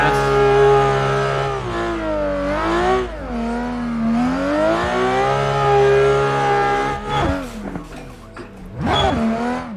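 The VDC F22 race car in Assetto Corsa revs hard through repeated upshifts, its engine note climbing and dropping in loud, close sweeps, with a tire squeal and a final rising rev near the end.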